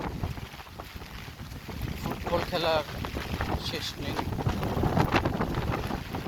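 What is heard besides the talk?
strong wind during rain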